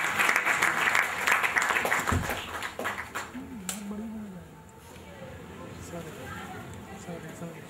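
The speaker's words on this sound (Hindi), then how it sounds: "रंजन जायदी जी के लिए एक बार जोरदार तालियां।" Applause for a poet at a Hindi book launch event, a burst of clapping in the opening seconds that fades into a voice and crowd murmur.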